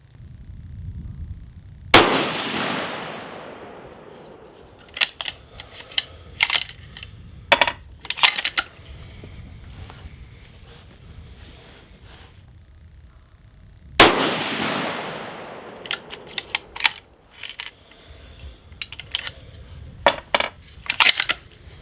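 Two loud, sharp shots from a Steyr Pro Hunter II bolt-action rifle at an outdoor range, about twelve seconds apart, each with a long fading echo, followed by scattered metallic clicks and clinks.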